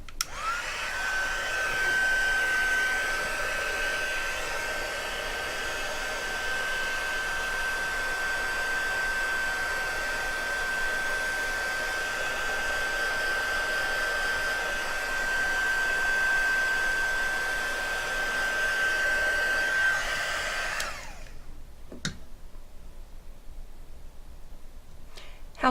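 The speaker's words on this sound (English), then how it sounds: "That's right, the heat gun." A heat gun blows a loud, steady whooshing roar close by for about twenty seconds while drying a mixed media craft piece with a thin whine running through it, then shuts off, leaving a few faint knocks.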